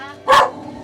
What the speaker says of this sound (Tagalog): Ay, maingay yung aso.